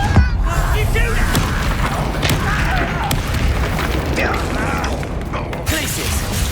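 Spell blasts and booms from the Hogwarts Legacy video game Confringo spell, mixed with mechanical clanks and game effects, continuous and dense throughout with a voice shouting spell names over them.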